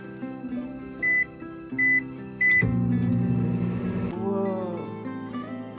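A microwave oven hums steadily while heating cheese and chorizo, its drone running throughout with a few short beeps in the first half and a louder shift partway through, no talking.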